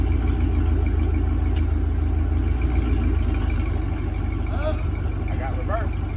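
A car engine runs steadily after a transmission swap, a loud, low idle-like drone that continues throughout, with people talking over it.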